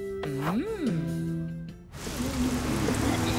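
Rain pours into a home through a window left open: after a gliding, wavering tonal sound and a brief lull, a steady hissing patter fills the rest, with faint tones lingering underneath.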